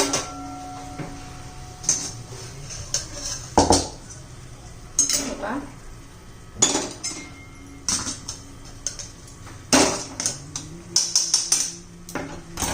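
A pot of sugar syrup for carrot barfi is shifted aside in a home kitchen, giving scattered metallic clinks and scrapes of pots and utensils at close range, with short pauses between them.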